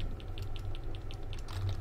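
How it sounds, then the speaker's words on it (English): Steady, rhythmic clicking of keys on a computer keyboard, faint and evenly paced, with a low background hum and no talk. "And this is how I play the keyboard."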